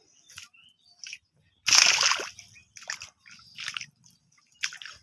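A sandal drops into water with one sharp, close splash, followed by a few softer drips and sloshes that trail off over several seconds.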